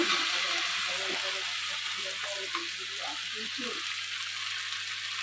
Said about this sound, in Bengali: চেরা কাঁচা লঙ্কা, ভালো করে নাড়িয়ে নেব।